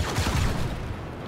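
An explosion and bursts of blaster gunfire in the Star Wars Battlefront 2 video game form a loud, dense, rumbling blast that fades out over about a second.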